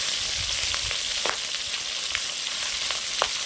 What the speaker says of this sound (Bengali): আর এখন তিনটে মাছের মাথাগুলো ভাজা করছি। আর সঙ্গে হচ্ছে এই যে মাছের পটকাগুলো